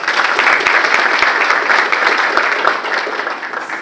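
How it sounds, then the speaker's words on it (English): An audience at an automotive careers masterclass applauds the APTIV presenters. Loud, close, continuous clapping from many hands holds steady and then eases slightly toward the end. "please give a round of applause for APTIV for being here"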